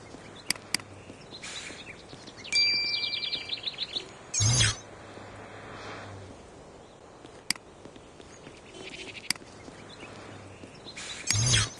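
Cartoon sparrow chirping in a nature exploration game set in a city, with several short bright tweets and trills scattered over a soft musical background, fairly close and clear, no talking.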